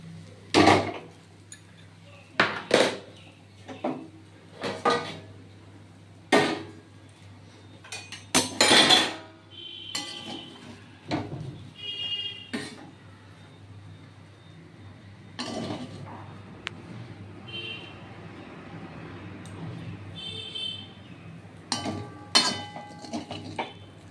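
Spoon scraping and clinking against a pan while semolina upma is served out, a series of sharp metallic knocks and clinks with quieter scraping between, close by, no talk.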